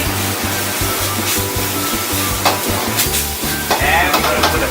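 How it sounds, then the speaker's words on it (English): Lemongrass is stirred into chicken frying in sauce in an Indonesian restaurant kitchen, with loud continuous sizzling and scraping stir strokes in a steady, close rhythm. "Stir it for a couple of minutes."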